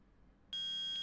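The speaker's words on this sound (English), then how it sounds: "Beep, beep, beep" A sharp electronic beep from a metal detector in the Phoenix Wright: Ace Attorney video game sounds once, a sudden loud, steady high tone that starts midway through and holds, with a slight pulse near the end.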